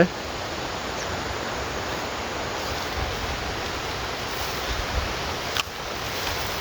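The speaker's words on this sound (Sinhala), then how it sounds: "දැන් නම් මම ගඟ ගාව ඉන්නේ" A river flowing steadily gives a continuous, even rush of water that holds at a constant level for several seconds with no voices.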